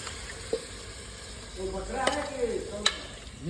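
Chicken is stirred into curry in a pan, giving a low, steady sizzle with scraping strokes and a few light clinks. A faint voice murmurs briefly in the background.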